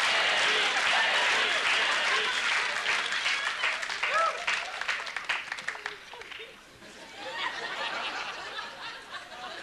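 Studio audience clapping and applauding warmly, a dense burst of many hands that thins out midway and then swells again, with a few chuckles mixed in.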